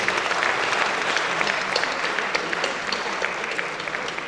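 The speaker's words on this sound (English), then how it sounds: "I think the Vice President deserves more applause" Sustained applause from an audience at a village meeting honoring the Vice President, dense steady clapping filling the room without pause, fairly loud and close.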